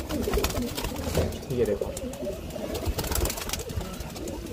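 Pigeons in a loft, including a border-marked pigeon that has paired: soft, low cooing close by under a man's brief spoken remark, with rustling and shuffling.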